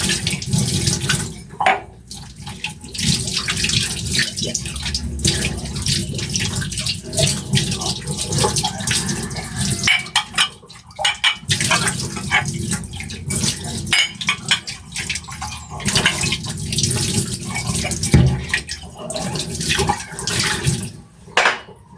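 Tap water runs into a kitchen sink during dishwashing, a loud continuous splashing rush that shifts as dishes move under the stream and briefly drops around the middle before resuming.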